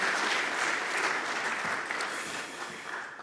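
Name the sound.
audience applause at a forum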